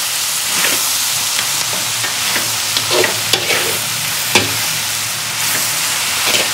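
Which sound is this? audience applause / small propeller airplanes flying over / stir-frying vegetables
stir-frying vegetables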